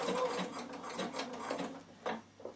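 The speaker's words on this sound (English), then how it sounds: "I'm going to use my knee control to turn it around to stitch it." Bernina sewing machine stitching wool appliqué, a fast mechanical whirring hum in short bursts with brief pauses between, close and fairly quiet, without talk.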